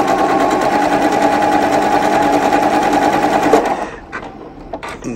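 Sewing machine sewing a triple zigzag stitch on a quilt binding strip, a loud, close, continuous motor whir with fast needle chatter for several seconds, then stopping, followed by a few light clicks and thread handling sounds.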